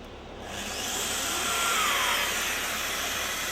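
A Festool Domino XL 700 joiner machining a mortise gives a steady, loud whirring hum that swells after the first half second and holds without a break.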